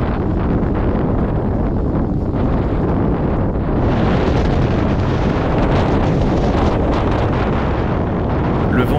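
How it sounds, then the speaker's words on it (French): A strong windstorm in Swedish Lapland roars as loud, continuous buffeting wind that batters the microphone without a break. "Le vent était très violent et on ne voyait pas à 2 mètres."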